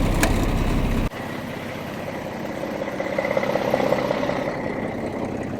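A 2023 Kenworth T680 truck engine idles with a steady low rumble after a brief click, droning evenly and close by, with no one speaking.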